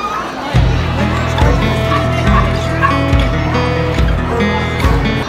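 Coonhound barking at a busy pet expo, a close dog giving a series of repeated loud barks roughly every second, over crowd murmur and nearby voices talking.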